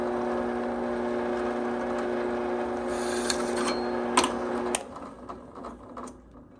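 A brad point drill bit cuts into aluminum with a harsh, close, grinding rasp for about five seconds, bursts of bright scraping near the end, then it drops to quieter handling noise.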